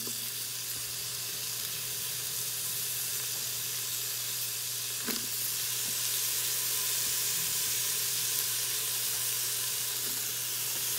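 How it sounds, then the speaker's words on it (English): Garlic, onions and celery sauté in melted butter in a pot for southern black-eyed peas, giving a steady, even sizzle and hiss throughout with a faint clink near the middle and no talking. "I'm going to go ahead and add my garlic, onions, and celery to the pot."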